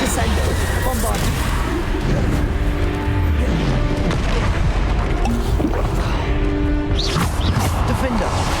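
Bombarda and Descendo spells blast again and again in the video game Hogwarts Legacy, loud booms and crashing impacts that pile up into a dense barrage, with voices talking and shouting over the fight.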